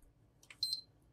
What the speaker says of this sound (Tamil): ஃபஸ்ட்டு பீப் கேட்டிருக்கு